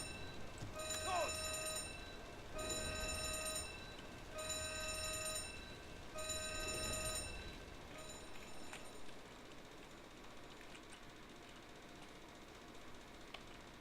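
An alarm bell sounds aboard an enemy ship in a U-boat video game: four loud ringing bursts at a steady rhythm, then a quieter rumbling stretch.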